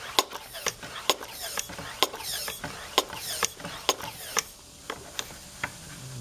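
Hand pump on a brake pressure bleeder tank is stroked repeatedly, giving a series of sharp clicking ratchet-like strokes at a roughly regular pace, close and fairly quiet.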